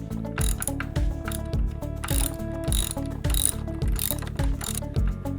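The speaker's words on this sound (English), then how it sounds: "Loosen the blade nut counterclockwise using a 16mm socket wrench." A 16mm socket wrench ratchets a blade nut loose on a toothed edger blade, giving a close, loud run of rapid metallic clicks in repeated even bursts with short pauses between strokes.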